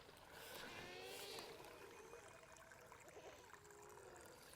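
Steady rush of water flowing along a creek, a continuous gurgling wash with no pauses, fairly close and moderately loud.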